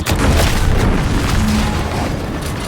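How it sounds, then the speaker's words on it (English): A deep, rumbling explosion in the video game The Outer Worlds 2, loud and close, with a booming roar that sustains and slowly fades over a few seconds, no talking. "What's that? An explosion?"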